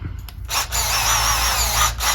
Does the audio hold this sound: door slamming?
no